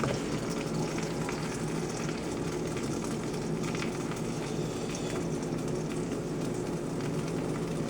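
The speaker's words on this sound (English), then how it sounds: "they're just frying up" Cheese and meat for birria frying in a pan, a steady dense sizzle crackling continuously and close at hand, with no talking over it.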